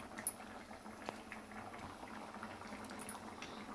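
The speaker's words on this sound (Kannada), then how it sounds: "ಆಗಿದೆ ಅನಿಸುತ್ತೆ, ಕುದೀತಾ ಇದೆ" Sambar bubbling away in a pot on the stove, a soft steady simmer with occasional pops and a brief clink, fairly quiet and close, no voices.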